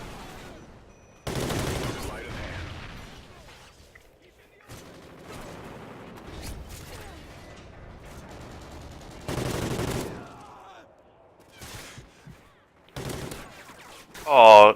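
Gunfire in a shooter video game, with bursts of loud shots in several clusters between quieter stretches, and someone talking in between.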